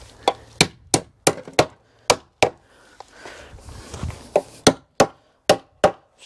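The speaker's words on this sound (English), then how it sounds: "A good old trusty Wix hammer." A Wickes hammer drives nails into a wooden shed floor, about a dozen sharp, close knocks in two quick runs separated by a brief pause of shuffling.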